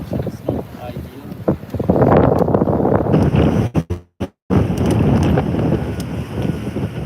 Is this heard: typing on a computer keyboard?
no